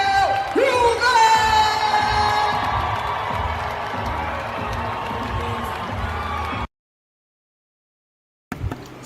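Comedy-show crowd cheering and clapping as DL Hughley is welcomed on stage, loud whoops and shouts over a wash of applause, with a voice calling out above it, before an abrupt cut to silence and a brief burst at the end.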